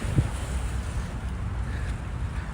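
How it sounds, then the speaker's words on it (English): Calm water at the Gravesend Bay waterfront in Brooklyn, a steady low wash of gentle waves and light wind rumble against the microphone, with no talk. "Big calm conditions here on the Gravesend Bay at the moment."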